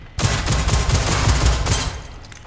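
A loud, rapid fusillade of gunfire in the game Generation Zero rattles for about two seconds, then tails off into a ringing echo.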